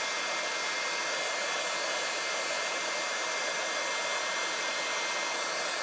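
A heat tool blows hot air steadily onto stencil card for a craft project, producing a loud, constant, close roar like a hair dryer that never pauses.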